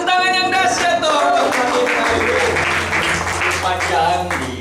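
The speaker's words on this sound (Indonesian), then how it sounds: "Kasih tepuk tangan yang dahsyat dong." A church congregation claps hard for a birthday celebration during a service, steady applause running the whole time beneath singing voices and a sustained low musical drone.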